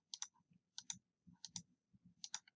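A computer mouse clicks while arcs are drawn in mapping software, faint crisp clicks in pairs, four double clicks spaced about three quarters of a second apart, close and quiet with no talk.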